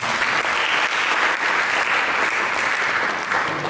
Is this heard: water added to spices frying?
no